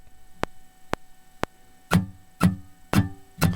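Steady metronome clicks, sharp and evenly spaced about half a second apart, joined after a few beats by soft thumping taps on the same pulse.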